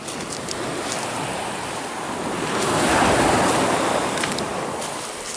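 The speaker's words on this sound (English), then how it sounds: "The waves are really high out there." High ocean surf off Jamaica heard up close as a continuous broad wash of breaking waves, with wind buffeting the microphone, swelling louder midway and then easing slightly.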